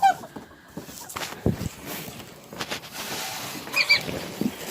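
Chickens and turkeys on a farm at feeding time in May snow cluck and squawk in short, scattered bursts at moderate distance, with brief rustling and bumps between calls.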